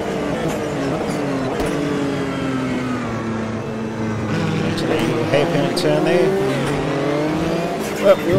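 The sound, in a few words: race car wheel spin in video game Automobilista 2 at Imola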